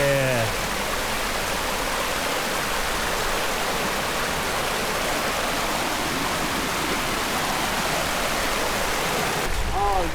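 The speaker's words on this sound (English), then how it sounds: "this is where the cold water is coming from the mountain, and this is like cold water" Cold mountain stream water rushes in a steady, loud broadband wash that continues without pause.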